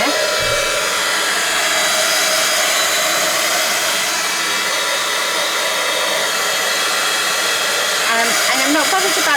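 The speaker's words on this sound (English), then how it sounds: "Let's dry this layer. So I've just got my heat tool here." A heat tool blows continuously while drying a layer of paint on a mixed media canvas, a loud steady whooshing roar held close throughout with no break.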